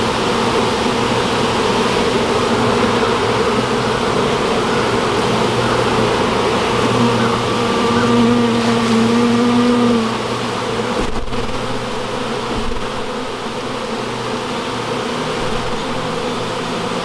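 Dense, continuous buzzing of a large mass of honey bees freshly evicted from their hive in the evening, loud and close, with a few brief higher whining tones rising out of the swarm drone.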